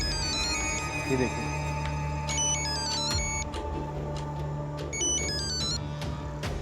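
A phone ringtone plays repeated electronic melodic beeps at moderate volume over a low background hum, while someone speaks briefly over it.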